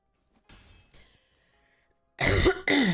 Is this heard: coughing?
yes